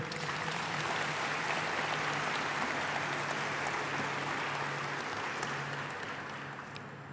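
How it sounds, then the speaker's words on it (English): An audience gives Eric another round of applause at a talk, dense continuous clapping that stays even and gradually tapers toward the end, with a faint low hum underneath. "Another round of applause, please, for Eric."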